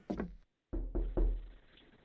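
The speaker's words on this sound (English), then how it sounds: "he's knocking on the door" Knuckles rap on a door, close and sharp: two quick knocks, a brief pause, then three more evenly spaced thuds fading into quiet room tone.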